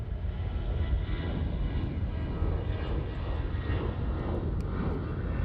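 A plane taking off at Charlotte Douglas International Airport gives a steady, broad engine roar that holds loud and even throughout, with no voices.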